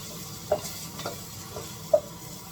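Garlic stirred in a frying pan, with a few distinct scrapes of the spoon against the pan over a soft, faint sizzle, close by and without any voices.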